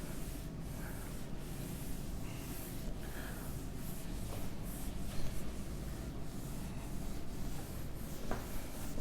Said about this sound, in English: I'm going to erase this part.